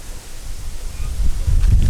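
Strong, gusty wind buffets the microphone during a fishing trip in a squall with gusts near 28 m/s, a steady low roar that swells louder toward the end, alone without talk.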